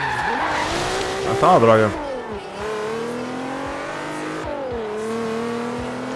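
A Camaro SS drifts in Forza Horizon 3, its tires squealing while the engine revs and whines in loud, steady pitch sweeps. A voice speaks briefly over the squeal.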